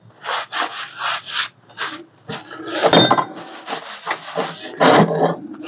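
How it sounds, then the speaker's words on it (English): Cloth rubbing and wiping WD-40 off a homemade workstand after holes are drilled, close and fairly loud, in repeated scrubbing strokes with a couple of brief knocks and no talk. "Clean off the WD-40."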